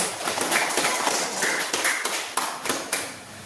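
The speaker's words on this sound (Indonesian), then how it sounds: "Kita kasih tepuk tangan untuk kelompok 1." Classroom students clap for a group that has just presented in a religious studies lesson; dense, steady applause with sharp taps fills the whole stretch at close range.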